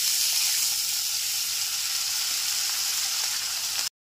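Spice paste with Kashmiri chilli powder and a splash of water sizzling steadily in a pan over low-to-medium flame for Begun Ilish curry, a close, even frying hiss throughout.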